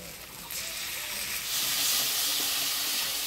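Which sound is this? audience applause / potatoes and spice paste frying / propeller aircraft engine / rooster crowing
potatoes and spice paste frying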